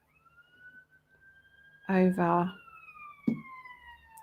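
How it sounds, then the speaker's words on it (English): Ambulance sirens wail outside, a faint steady tone sliding slowly in pitch behind a close voice speaking during an indoor craft session. "That's the ambulances."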